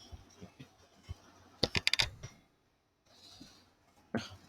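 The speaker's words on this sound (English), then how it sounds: "I'm typing in here" Someone types on a computer keyboard, heard as short bursts of quick, crisp key clicks with pauses between them and no talking.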